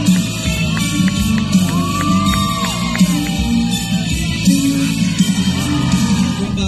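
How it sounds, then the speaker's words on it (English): An audience at an outdoor night show cheers, whoops and yells loudly over continuous crowd noise, with applause mixed into the dense roar throughout. "Big applause"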